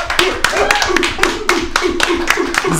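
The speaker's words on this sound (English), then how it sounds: "Can you give a round of applause for this afternoon's guest, Ziggy in the building?" Studio audience clapping for a guest on a UK radio-style Christmas show, a loose round of hand claps with uneven sharp bursts, some louder claps standing out near the listener, and a bit of background voice underneath.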